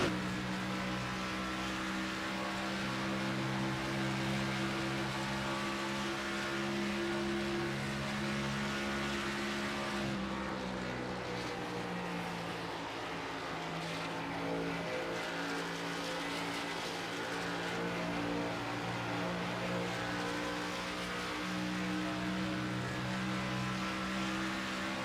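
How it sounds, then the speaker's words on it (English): A race car seen from an onboard camera on a straightaway in a racing video game, its engine droning loud and steady with layered harmonic whine, the pitch shifting partway through as it changes gear and keeps accelerating. "Racing down the back straightaway right now, you can see Ethan just behind Matthew Weeks."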